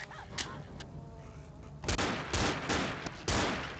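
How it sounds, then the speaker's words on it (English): Gunfire in the zombie shooter game Left 4 Dead, with scattered single shots followed by a run of loud, rapid bursts, heard close with no talking over it. "Shot her in the butt."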